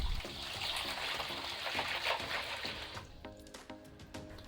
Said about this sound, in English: Take a basin and pour 2 liters of warm water into it.